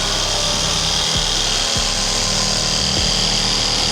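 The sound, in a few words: cutting sink holes in a wooden epoxy river countertop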